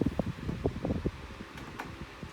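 Steady whirring of a 12-inch desk fan at its highest speed, a smooth continuous drone with faint rustling airflow, close by and fairly quiet.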